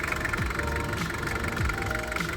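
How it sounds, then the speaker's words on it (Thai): A Mitsubishi Strada Grandis 2.8 4x4 four-door pickup idles nearby, a steady smooth diesel rumble with faint low thumps and no stumbling. "เสียงเครื่องยนต์นะครับเสียงนิ่มเสียงเพาะนะครับ เครื่องยนต์ทำงานปกติ"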